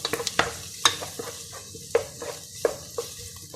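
Ginger-garlic paste, green chillies and curry leaves sautéing in a pan, with a soft sizzle under repeated metallic scrapes and taps of a spatula stirring at an irregular pace, close up.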